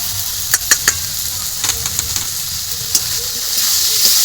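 Chili powder and spices sizzle in hot oil in a pan while cooking a snakehead fish dish, a steady close hiss with a few sharp clicks and spatters from stirring, growing slightly louder at the end.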